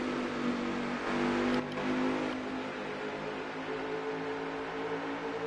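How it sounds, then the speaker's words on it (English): Race car engines roar steadily at a distance at Gateway, a sustained droning whine with slight pitch shifts as cars pass, continuous throughout. "Priest just making the pass on Flux for third, but I can hear Flux right on him."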